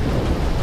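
Wind and hard rain lash down in a thunderstorm at sea off Dominica, a loud continuous broadband roar with heavy low rumble throughout, no voices.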